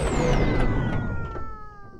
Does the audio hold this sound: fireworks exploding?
no